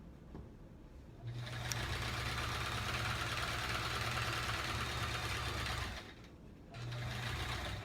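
A sewing machine stitches rows of a quilt in a steady, continuous run of close mechanical whirring, pausing briefly and then starting again near the end.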